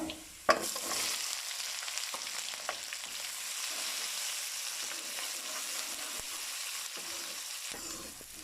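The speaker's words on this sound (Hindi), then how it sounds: "प्याज को हमने हल्का सा सौते करके इसमें टमाटर ऐड कर देने हैं" Onions sautéing in a pan for an aloo anday ka salan: a steady, soft hissing sizzle runs throughout with an occasional light clink of a spoon, close but quiet, with no voices.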